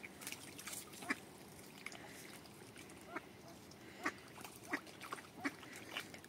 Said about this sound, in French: Ils n'ont pas peur, ce sont les canards sauvages.